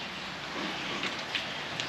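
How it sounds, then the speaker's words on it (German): Fat raindrops patter during a thunderstorm at a camper with a tent awning, forming a soft steady wash with a few louder drops standing out nearby, and no one talks. "Jetzt kommen dicke Tropfen."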